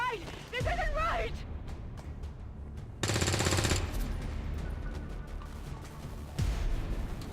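Gunfire rings out during a firefight in the video game XCOM 2, with a dense burst of automatic shots in the middle and other bangs scattered around it, all over game music and vocal sounds.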